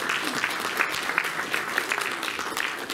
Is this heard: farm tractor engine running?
no